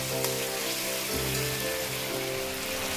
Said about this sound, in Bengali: বাইরে প্রচন্ড বৃষ্টি হচ্ছে, মেঘ ডাকছে।